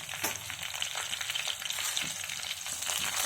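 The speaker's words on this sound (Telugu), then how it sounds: "బాగా ఫ్రై చేసుకోవాలి" Mustard seeds, cumin, coriander seeds and dried red chillies frying in hot oil, a dense steady crackling sizzle heard up close with small pops and occasional stirring.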